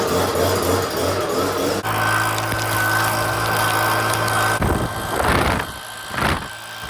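A motorized blower running steadily on a farm, clearing out a cabin: a loud, continuous engine whine and rushing air that shifts pitch partway through and surges in bursts near the end, with no talking.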